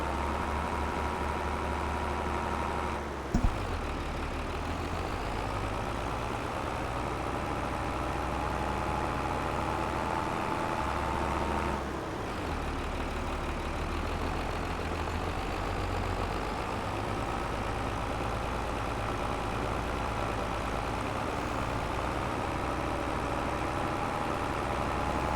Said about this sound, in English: And does the tractor have enough juice to skate uphill?